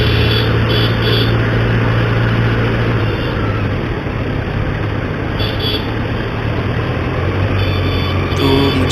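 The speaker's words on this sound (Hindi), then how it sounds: "बाइक का जो एग्जॉस्ट का साउंड है सुनाई दे रहा है कि नहीं है मुझे पता नहीं" A 900cc superbike with a stock exhaust runs at a steady idle in a Howrah second-hand bike showroom, its low continuous engine drone loud and close, with a faint high whine above it.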